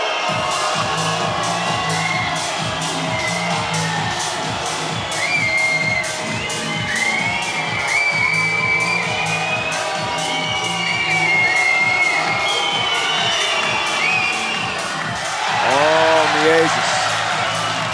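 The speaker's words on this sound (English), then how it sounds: "This crowd is not making it easy on him." Basketball crowd at a Latvia versus Serbia FIBA 3x3 game during free throws, a rhythmic drumming chant with loud whistling and jeering over it, ending in a louder surge of shouting.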